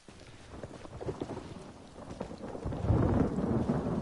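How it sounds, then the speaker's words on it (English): Rain patters steadily while low thunder rumbles and swells, growing heavier and louder toward the end. "I love the sound of rain and thunderstorms"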